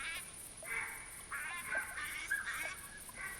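Ducks calling in the hunting game theHunter: Classic in a bayou wetland, a run of nasal, honking quacks in quick irregular bursts, fairly close over a quiet background.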